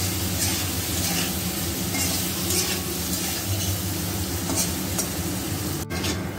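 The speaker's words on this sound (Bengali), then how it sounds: "হালকা একটু লাল করে ভেজে নেব" Paneer fries in hot oil with turmeric and salt, giving a steady close sizzle with soft stirring scrapes throughout and a brief clink near the end.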